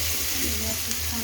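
Green chilies and garlic sizzle steadily in hot oil in a pan, a constant close crackling fry with no voices over it.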